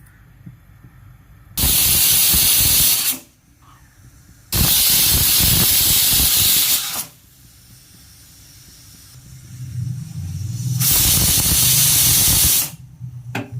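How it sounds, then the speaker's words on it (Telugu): A pressure cooker with tomatoes and toor dal inside lets off three long, loud bursts of hissing steam whistle, each lasting a couple of seconds, separated by quieter low rumbling from the stove. "పైన ఒక 2 విజిల్లు అట్లా పెట్టుకున్నామంటే ఆ టమాటాల కందిపప్పు బాగా ఉడికిపోద్ది అనమాట."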